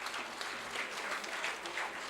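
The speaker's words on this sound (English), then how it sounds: "give a good Thunderous applause to everyone on the dais" Sustained dense applause from the audience at the inaugural ceremony of a literature festival, steady and moderately loud for the whole stretch with no pauses.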